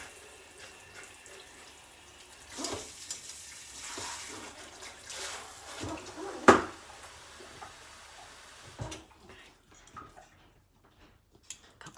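Tap water runs into a dish at a kitchen sink, a soft rushing stream with splashes and clinks of handling, briefly louder midway before trailing off into quiet toward the end.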